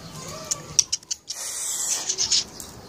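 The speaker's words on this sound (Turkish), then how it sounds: "Ona ben kuş sesi açıyorum." Recorded birdsong played back on a device for a pet bird indoors, giving a few short bright chirps and tweets in scattered bursts, moderately close, with no talking over it.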